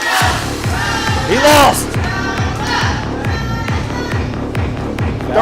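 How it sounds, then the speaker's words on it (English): Arena crowd at a ProSouth Wrestling event reacting loudly in a steady roar of cheers, with an announcer talking over it throughout. "Crowd cheering for a loser."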